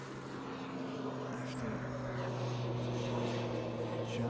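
An ATR turboprop aircraft flies past, giving a steady, droning engine tone with a constant hum that holds throughout, heard from an outdoor spot with faint background noise.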